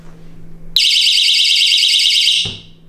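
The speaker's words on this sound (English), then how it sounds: "this is an alarm system" A household door alarm on a farmhouse cabinet blares a loud, steady electronic tone for almost two seconds, then cuts off abruptly, leaving a low background hum.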